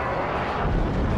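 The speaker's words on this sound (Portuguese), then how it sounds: "Helicóptero." Helicopter in the video game Alan Wake Remastered, a loud, dense, steady engine and rotor drone filling the whole brief moment with no voices.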